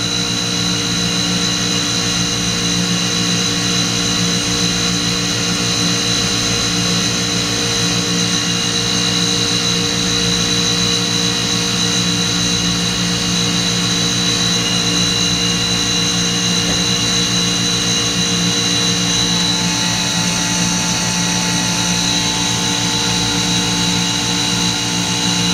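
A Plasmatherm 790 reactive ion etching system runs an oxygen or nitrogen plasma, giving a steady, unbroken machine drone with layered tonal hums, even and loud from start to end with no talking.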